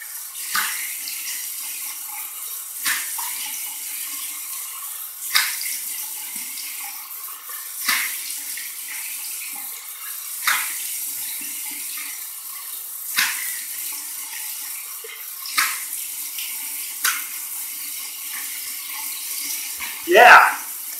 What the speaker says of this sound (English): Gonna do cold water rinse now, close my pores.